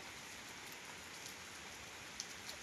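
Steady rain falls on a village, a soft even hiss of drops with a few faint taps on a surface, continuous and fairly quiet with no voices.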